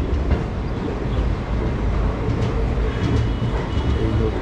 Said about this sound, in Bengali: কলকাতা স্টেশন ছেড়ে ট্রেন